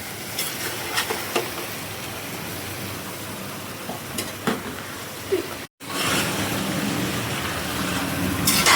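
Goat head pieces are stirred into a spicy curry sizzling in a pan, giving a continuous close frying hiss with occasional scraping stirs and a brief cut partway through.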